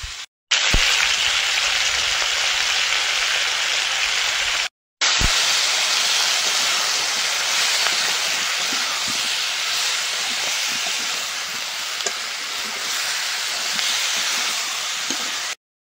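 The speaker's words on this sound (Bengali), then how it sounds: "কাঁচা লঙ্কা, লবণ আর হলুদ দিয়ে ভালো করে কষিয়ে নেব।" Foli fish frying with green chili, salt and turmeric in hot oil, giving a steady, loud, close sizzling hiss that runs almost the whole time, broken only by a brief pause.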